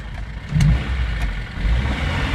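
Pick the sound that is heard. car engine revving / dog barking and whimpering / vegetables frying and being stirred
car engine revving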